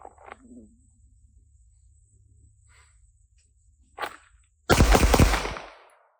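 A handgun fires during grip technique practice: one sharp report, then a louder, longer burst of close, reverberant blasts near the end after mostly quiet moments.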